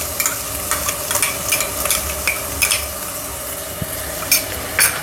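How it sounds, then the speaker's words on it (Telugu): Ginger garlic paste frying with translucent onions in a pan for mutton with eggplant, a loud close sizzle with repeated metal spoon scrapes and clinks at an uneven rhythm, no voices. "కొంచెం పచ్చివాసన పోయే వరకు వేగనిద్దాం"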